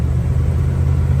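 A 1978 Dodge D200 crew cab pickup with a 440 V8 running smoothly on the road, a steady low rumble at cabin level with no talk.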